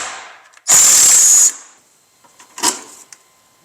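A short burst of a power tool spinning a 13 mm bolt off the battery hold-down bracket on a PT Cruiser, lasting under a second, followed by a faint metallic clink as parts are handled.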